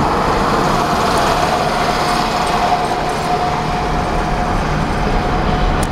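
A rescued Cadillac with a bent rear left control arm driving crooked, its engine and road noise a steady, loud droning hum with a faint whine, continuous and unbroken.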